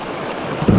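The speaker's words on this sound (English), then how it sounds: "I'll go right here. I'll go through the waves." Kayak moving through waves on the rapids of the Whitemouth River, with broadband water rush and wind buffeting the microphone, swelling louder near the end.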